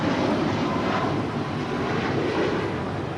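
Alaska Airlines Boeing 737 MAX 9 departing Los Angeles International Airport, a steady, dense jet engine roar at moderate distance, sustained and even with a slight swell and fade.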